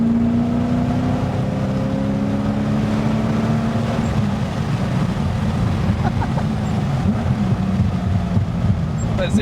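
BMW E30 coupe with a swapped M60B44 V8 engine braking on the road, a steady low drone with falling tones as revs drop, fairly loud throughout with wind and road noise and people talking over it.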